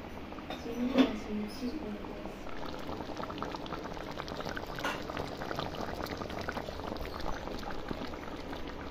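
Fish roe simmering in a sour mango curry bubbles steadily in a pot, with a soft continuous seething and a brief clunk near the start, fairly quiet and close.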